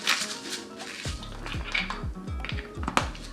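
A hand grinder cracking fresh salt over meatloaf muffin mix, a series of short gritty crunching clicks among light kitchen clatter, close and moderately loud, without speech.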